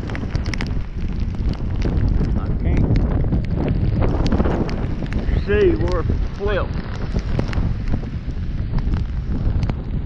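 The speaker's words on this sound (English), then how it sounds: "the wind is blowing" Strong wind gusts roar steadily against the microphone while riding a scooter through a rainstorm, a continuous loud rushing broken by brief knocks, with a person talking over it.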